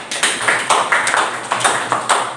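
Classroom applause for a student named Rehan, a brisk burst of many hands clapping nearby in uneven, overlapping beats that hold steady throughout.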